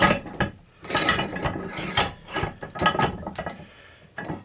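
A small tin can with its lid tucked inside being crushed in an arbor press, a series of creaking, grinding metal crunches and ratcheting clicks in irregular bursts, close and moderately loud.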